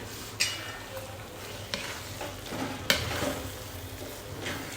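Ghee being stirred into carrot halva in a pan, with a spoon scraping and pushing the thick mixture in slow strokes and a faint sizzle underneath, close and moderately quiet.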